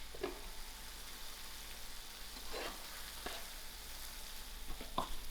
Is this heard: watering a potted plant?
no